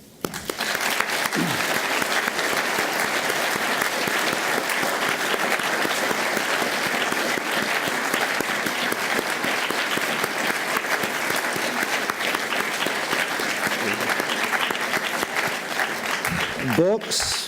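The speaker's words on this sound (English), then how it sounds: "for that we all applaud you." Sustained, loud applause from a large audience at a writers' festival opening night, dense and even throughout, with some cheering and voices near the end.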